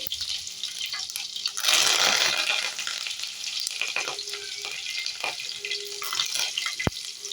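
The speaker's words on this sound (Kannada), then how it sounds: "ನಾನು ಎರಡು ಕಡ್ಡಿ ಕರ್ಬೇವು ಹಾಕೋತಾ ಇದ್ದೀನಿ" Two sprigs of curry leaves hit hot oil with mustard seeds and crushed garlic, bursting into a loud, close sizzle that then holds a steady frying crackle with stirring, ending with one sharp knock.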